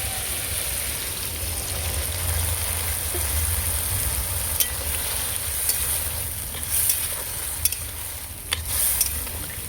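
Turmeric powder and a ground mustard and green chilli paste fry in oil in a pan while a fish curry is being made, giving a steady soft sizzle with a low rumble and a few light stirring clicks near the end.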